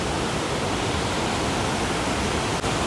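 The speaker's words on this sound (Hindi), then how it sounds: "ग्लेशियर का पानी" Fast, heavy glacier meltwater stream rushing down through a mountain valley on a hiking track, a loud, steady broadband roar that fills the whole clip close by, with no talk.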